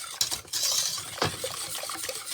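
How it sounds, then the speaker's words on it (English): Cherry jam with sugar being stirred in a pot: wet, sloshing scrapes and liquid swirls close up, steady and fairly loud, with no talking. "And give it a stir."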